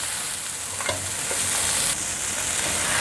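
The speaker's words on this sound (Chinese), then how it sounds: "继续翻炒" Preserved radish is stir-fried in a pan with king oyster mushroom over medium-high heat, giving a steady, loud close sizzle with a few scraping stirs of the spatula throughout.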